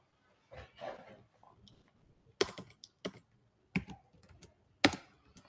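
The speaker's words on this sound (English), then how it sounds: "you click on the text tool and you type" Computer keyboard typing while working in Figma: a few soft keystrokes, then separate sharp clicks and small clusters of taps, close and fairly quiet in a silent room.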